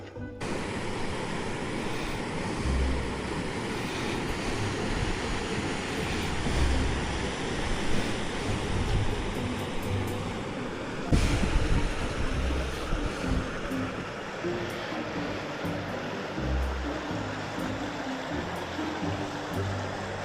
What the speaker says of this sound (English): You hear the stream down here.